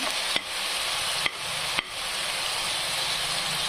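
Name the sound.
red chillies frying in a pan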